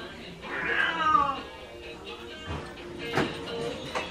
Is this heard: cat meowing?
yes